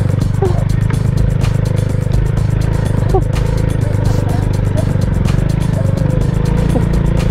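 A Bajaj 100 motorcycle engine labours uphill, giving a steady, continuous low drone with faint rattles that runs the whole time at close range. Occasional voices come through over it.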